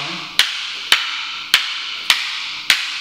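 Rattan sticks clack together in a Filipino martial arts Sinawali drill on the high line, five sharp, evenly spaced wooden strikes, close and crisp, each ringing briefly before the next.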